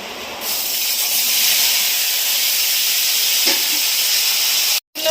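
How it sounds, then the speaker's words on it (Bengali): Cauliflower and potatoes fry in hot oil with a loud, steady hiss that continues unbroken before cutting off abruptly near the end. "এবার আমি এই কপি আর আলুগুলো ভেজে নেব"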